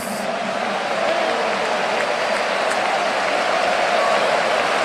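A church congregation at a national convention applauds in a steady, dense wash of clapping that holds evenly from start to finish, with a faint murmur of voices mixed in.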